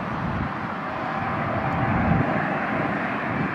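An airliner comes in to land at LAX during reverse operations, a steady broad jet roar that swells slightly and holds throughout, with no voices.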